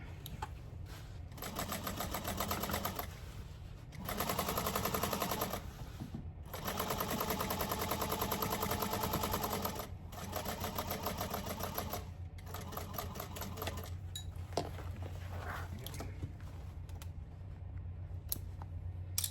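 A sewing machine stitches the seams of a fabric tote bag, its needle running in steady rapid bursts with brief pauses between runs as the work is pivoted and repositioned, close and fairly quiet with no talking.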